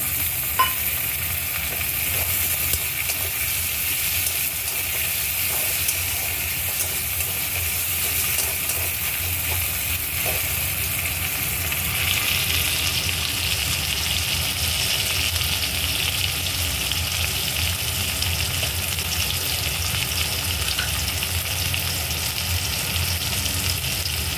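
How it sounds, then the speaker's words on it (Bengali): Sliced onions sizzle and fry steadily in a pan for a capsicum curry, with a dense, even crackle and occasional stirring scrapes close by throughout, no talking. "মোটামুটি ভাজা হয়ে গেছে পেঁয়াজগুলো।"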